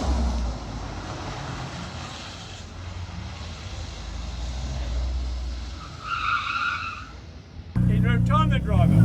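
A rotary-engined Mazda MX5 drifts on a go-kart track with a continuous engine roar and a sharp burst of tyre squeal partway through. A voice joins near the end.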